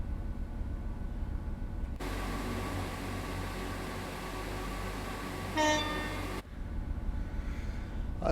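A Class 166 diesel train in Train Sim World 4, running with a custom audio mod on the Great Western Express route, gives a steady loud engine and rail rumble through the middle stretch, with a brief high squeal near the end before it cuts back to quieter ambience.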